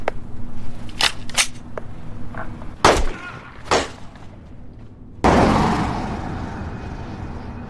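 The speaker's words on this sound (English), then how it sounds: "Finally, Jack decides to shoot the woman directly" Gunfire in a sniper movie: a handful of sharp, isolated cracks at uneven intervals over a low background, ending in one loud blast that rings out and slowly fades.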